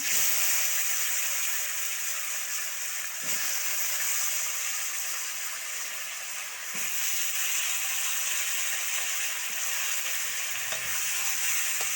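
Potatoes frying in hot oil in a home kitchen, a steady bright sizzle held at an even level throughout, broken now and then by soft stirring clatters, with no talking.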